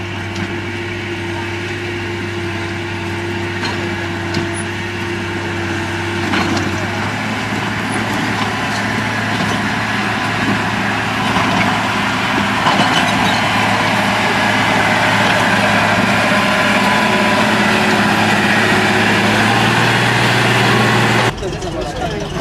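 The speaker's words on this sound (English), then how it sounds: "We're ready then for the water truck." A water truck's engine runs at a trial work site in China, a loud, steady low idling drone with a constant hum that shifts pitch slightly partway through, then cuts off abruptly near the end.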